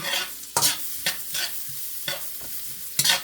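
Garlic sautés in oil and butter with a crackling sizzle, while a spoon scrapes and stirs in irregular strokes, several loud close scrapes standing out.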